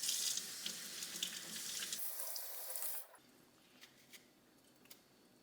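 Running water from a kitchen tap pours over a sweet potato being washed, a steady loud splashing rush that drops to a softer trickle with a few drips near the end.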